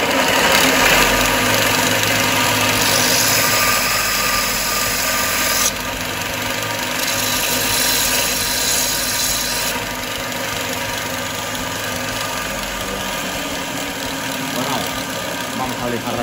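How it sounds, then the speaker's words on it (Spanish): An electric drill spins a wooden tightening knob mounted on a screw while a sander works it, giving a steady, loud motor whine and grinding hum that shifts in tone partway through. "le voy a dar con la lijadora."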